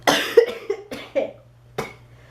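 A handful of short, dry coughs in an uneven sequence, close by, with brief quiet gaps between them and no talking.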